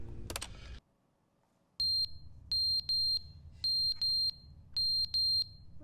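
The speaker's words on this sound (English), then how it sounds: "What's that beeping noise?" Repeated high electronic beeps in The Stanley Parable video game, coming in quick pairs at a steady rhythm after a short burst of noise, clear and moderately quiet over a low background hum, no talking.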